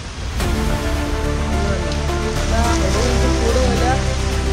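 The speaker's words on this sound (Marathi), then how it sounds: "जाम पाऊस आहे एकदम" Heavy rain pours during a ride toward the ancient Shiva temple in Ambernath, giving a steady, loud wash of rain noise under a droning vehicle hum, with a voice speaking over it.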